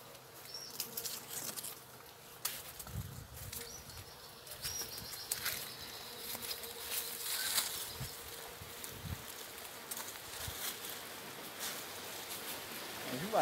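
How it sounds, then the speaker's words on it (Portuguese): Honey bees buzz around a fruiting acerola tree outdoors, a continuous faint insect hum with wing flutters close by, and a few soft knocks and rustles scattered through it. "E as abelhas tiram mel aqui."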